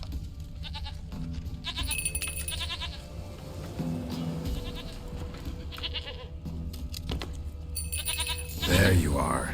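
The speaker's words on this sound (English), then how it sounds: "Ketemu akhirnya sama si kambingnya" A goat in The Witcher 3 bleats several times in repeated nasal calls over game ambience, close and moderate, with a character speaking briefly near the end.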